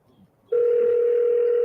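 A steady telephone line tone starts abruptly about half a second in and holds loud and unbroken while an auto dialer number is being called, with faint room noise before it.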